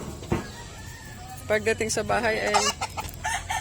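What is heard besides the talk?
chickens clucking and crowing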